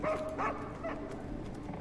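A little dog in a video game gives a few faint, high yips and whimpering barks close together near the start, followed by a quiet background.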